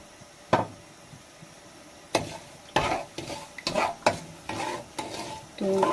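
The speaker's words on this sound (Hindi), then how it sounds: "4 से 5 मिनट तक इसको मैंने आयल में भूनना है।" Semolina roasting in oil in a pan over a low flame for suji halwa, stirred with a spoon in a series of close scraping strokes and soft clatters over a faint background sizzle.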